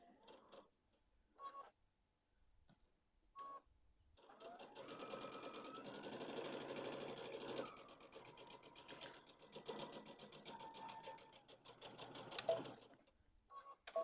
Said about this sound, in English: I'm going to lock my stitch at the beginning and the end.